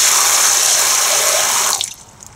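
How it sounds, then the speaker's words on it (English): Tap water gushing steadily into a wicking barrel during a simulated monsoon test of an overflow drain, a loud continuous rush that cuts off near the end, leaving a few faint drips. "You shut the water."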